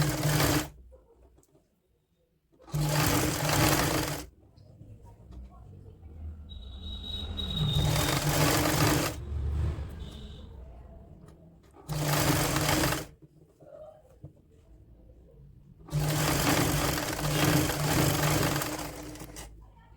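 An electric sewing machine stitches lace onto a woollen kurti in loud, rapid whirring runs, four or five bursts of a few seconds each, split by short quiet pauses as the fabric is moved.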